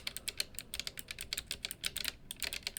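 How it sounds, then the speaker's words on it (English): Rapid, even typing on a mechanical keyboard with red-equivalent linear switches, close and crisp, with steady bursts of key presses and no voices. "It's a mechanical keyboard. I think these are supposed to be like red equivalent switches"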